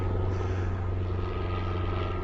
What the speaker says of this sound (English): little noisy plane going overhead